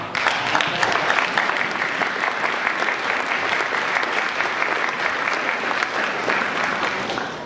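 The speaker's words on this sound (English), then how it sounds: "I want to give them a round of applause." A church congregation gives a round of applause, a loud, full and even burst of clapping from a large crowd that holds steady throughout.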